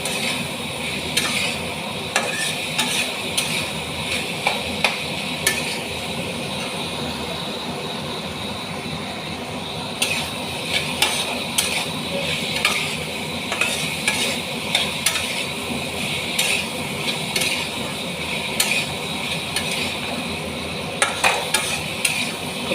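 Sweet pumpkin curry with chickpeas being stirred and fried in a pan, a dense sizzle with frequent brisk spatula scrapes and clatters in bursts, moderately loud and close, no talking.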